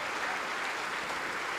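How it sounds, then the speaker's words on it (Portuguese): A church congregation applauds in a steady, even wash of many hands clapping, with no single clap standing out. "E vamos aplaudir ao Senhor por quem está saindo do seu lugar e vindo aqui para frente."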